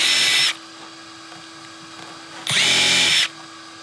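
A power drill fitted with a smart bit pre-drills a deck board in two short whirring bursts, each under a second long, separated by a quiet pause with a faint steady hum.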